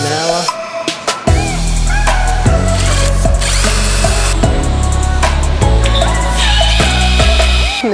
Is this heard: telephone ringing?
no